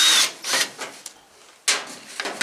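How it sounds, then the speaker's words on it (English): A power tool backs Phillips screws out of the top panel of a clothes dryer in short, loud, hissy whirring bursts close by, with a gap between runs. "So I just start by taking out these two Phillips screws in the top."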